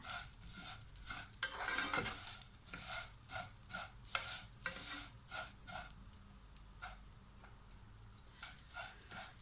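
Quiet, intermittent scraping and stirring of vermicelli roasting in ghee in a pan, with faint sizzling between the strokes.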